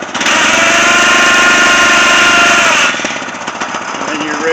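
A solar-powered off-grid water well drilling rig runs loud and steady with a dense mechanical roar, then eases to a lower, rougher churn partway through, heard up close with no talking.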